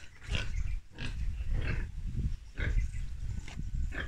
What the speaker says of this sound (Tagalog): So another piggy, newborn also. Mama pigs.